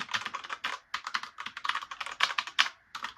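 Rapid clacky keystrokes on a GameBooster GB-G44 Radiance mechanical keyboard, close and crisp, in irregular bursts with brief pauses.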